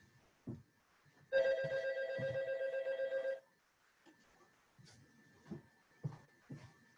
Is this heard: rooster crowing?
no